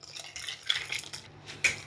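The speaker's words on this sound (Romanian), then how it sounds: "Acum torn în oală și amestec să nu se lipească de fundul oalei." A custard mixture of milk, egg and starch being stirred in a pot on the stove, with intermittent metallic clinks and scrapes of the spoon against the pot's bottom and sides, fairly quiet and with no talking.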